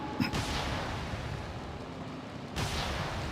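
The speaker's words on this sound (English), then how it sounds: "we're just gonna straight blast Crest with a cannon?" Cannon fire in the Dark Cloud 2 video game: two heavy booming blasts, one at the start and another near the end, over a dense rumbling game soundtrack.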